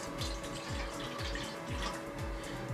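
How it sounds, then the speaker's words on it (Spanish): Water is poured carefully into a container for a measuring exercise, giving a close, steady trickling stream with a gurgling rhythm and no talk. "intentar no tirar nada de agua y ponerla en este recipiente"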